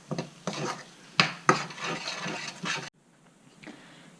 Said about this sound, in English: Now just mix all the spices.